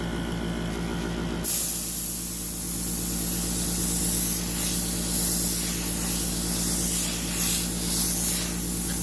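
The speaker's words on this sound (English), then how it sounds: "And I'm going to use my airbrush." An airbrush sprays slate paint onto a tumbler, starting with a sharp onset and then giving a loud, steady, close hiss over a low compressor hum for several seconds.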